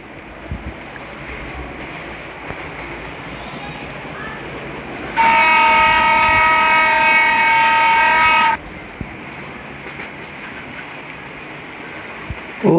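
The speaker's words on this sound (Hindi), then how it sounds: "नहीं फ्रेट ट्रेन चल रहा है।" A freight train hauled by a diesel locomotive in the Trainz Simulator video game gives a steady, even rumble, broken midway by one long, loud horn blast lasting about three seconds before the rumble carries on alone.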